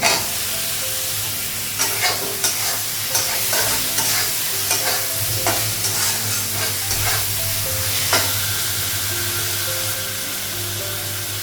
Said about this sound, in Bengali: মশলাগুলো ভেজে নিই, আলুটা লাগাবো, আলুটা লাগাবো,